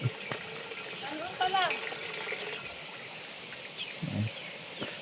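Steady running tap water hisses throughout, with a brief voice and a faint bird call over it.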